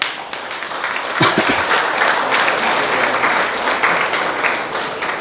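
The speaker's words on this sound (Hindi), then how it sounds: "इन सब लोगों के लिए एक बार जोरदार ताली बजा दें हम" Audience at a Vestige network marketing leadership training seminar clapping loudly and steadily, a thick, continuous roomful of applause lasting several seconds with a few nearer sharp claps.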